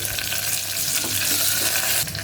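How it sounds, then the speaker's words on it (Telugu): Curry leaves crackle and sizzle loudly in hot oil as the final tempering for vegetable sambar, a dense, continuous hiss that eases off near the end. "ఇప్పుడు పోపు వేగిపోయింది చివరిగా కొద్దిగా కరివేపాకు వేసుకోవాలి"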